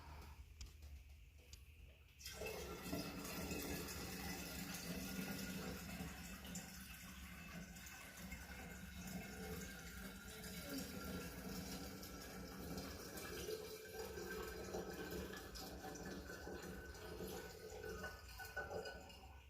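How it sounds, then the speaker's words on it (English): Water poured into a container while making mead, a steady close trickling stream that starts abruptly after a short quiet moment and runs on continuously. "we're going to add the rest of the water"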